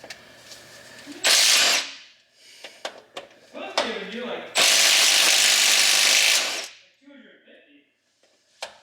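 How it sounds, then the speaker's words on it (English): A small impact wrench hammers at flywheel bolts during a broken-clutch repair, with a short burst, then a longer loud rattling run, separated by clanks and voices talking. "CJ, your little impact can break these flywheel bolts loose"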